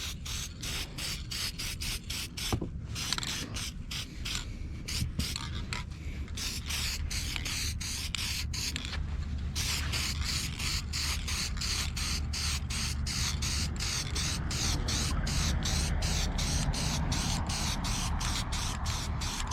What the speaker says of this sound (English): It's an old can, so it's not really spraying too well